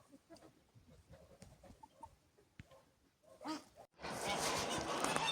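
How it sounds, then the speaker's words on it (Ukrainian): Chickens sheltering in a shed on a rainy day cluck softly and intermittently, then steady rain noise rises abruptly near the end. "Кури, бачите, ось поховалися всі туди в сарайчик."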